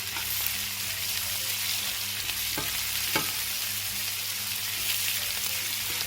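Onions stir-frying over high heat in a de Buyer carbon-steel iron pan with olive oil and steak juices, a steady close sizzle with a couple of brief scraping stirs.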